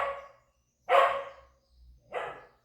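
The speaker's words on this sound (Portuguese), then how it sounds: "cachorro latindo." A dog barks three times, loud and close, with short pauses between the sharp barks and no other sound around them.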